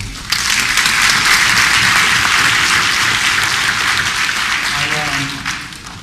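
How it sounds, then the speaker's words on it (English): A town hall audience at a Stop the Violence meeting starts clapping suddenly and keeps up a loud, full round of applause, which eases slightly toward the end as a voice cuts in near the close. "Give yourselves a round of applause."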